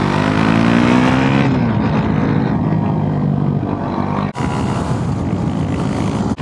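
A motorcycle on a winding road in Sardinia overtakes a Toyota Yaris, its engine and wind roar loud and continuous, rising in pitch before settling into a steady drone, with no talking.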